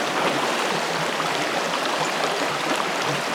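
Creek water flows steadily and close by during a hike up a Montana creek, a dense, even rush and gurgle of a shallow stream with no talking.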